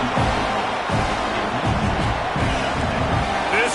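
Stadium crowd in College Football 26 keeps up a steady broadband roar with a rumbling low end, constant through the moment and heard under a play-by-play commentator's voice.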